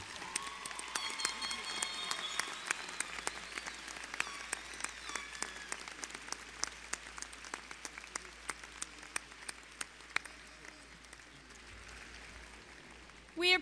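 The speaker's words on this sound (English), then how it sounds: "Let's give them a round of applause." Clapping comes from a university commencement audience at Weber State's fall ceremony, strong at first and then thinning into scattered individual claps that gradually fade toward the end.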